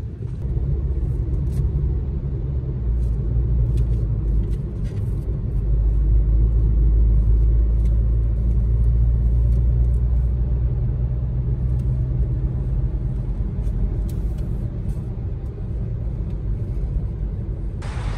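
A car drives on a busy multi-lane road in Dubai, heard from inside as a steady low engine rumble and road drone that swells slightly midway, with light traffic noise above it and no talking.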